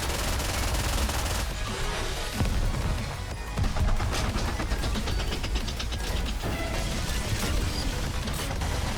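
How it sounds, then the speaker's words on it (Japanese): Dense rattling gunfire and mechanical clatter as a turret is destroyed by a burst attack in the mobile shooter NIKKE, loud and continuous throughout with no voices. "タレットの HP は残り少ないのでバーストで破壊して7段階に移行します。"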